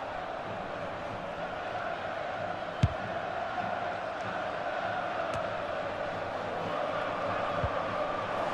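Stadium crowd noise from a FIFA 23 women's international football match, Norway versus Philippines: a steady, dense roar of spectators throughout, with a few sharp isolated knocks rising briefly above the constant wash.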